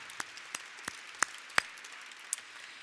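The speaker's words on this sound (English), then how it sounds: "Would you please give them a round of applause?" Sparse, faint applause from an audience at a Walk of Fame induction ceremony, heard as a handful of separate, scattered claps spread over a few seconds.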